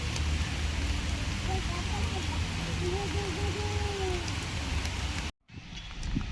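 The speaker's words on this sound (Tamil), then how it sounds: "மழை லைட்டாக கம்மியாகிடுச்சு." Rain falls steadily at Kumaraswamy Lake park, an even, moderate outdoor hiss with a voice briefly heard over it, before a short break and a quieter return near the end.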